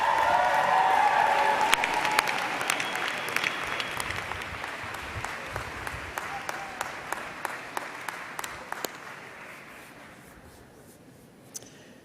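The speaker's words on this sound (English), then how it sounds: "It's just great to hear all of those applause" Loud crowd applause at a university convocation ceremony starts strong, thins into scattered individual claps and gradually fades out over several seconds.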